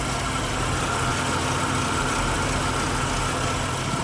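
A stock JDM car with pop-up headlights sits at idle, its engine giving a steady low rumble that holds close and even throughout with no talking over it.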